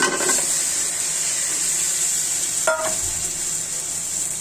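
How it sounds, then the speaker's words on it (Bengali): Loud, even hiss of cauliflower frying in hot mustard oil, with a brief clatter partway through as the sizzle carries on. "ফুলকপিগুলো ছেড়ে দিচ্ছি"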